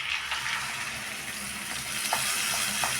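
Coriander paste goes into a frying Andhra brinjal curry in a pan, giving a steady close sizzle with a few soft stirring taps.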